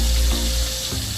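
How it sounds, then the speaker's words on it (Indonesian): Breaded risol piscok rolls deep-frying in hot oil, a steady close sizzle and bubbling that fills the short moment with no talk. "lalu goreng sampai bagian luarnya coklat keemasan dan crispy"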